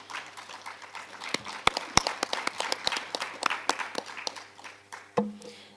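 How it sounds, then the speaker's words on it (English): Audience applause for a school principal at an education committee gathering: sparse, irregular individual claps building into a loose scattering of hands, fairly close and clear, with no talk over it. "I think this deserves a round of applause. Principal, if you can stand up so that we can clap for you properly."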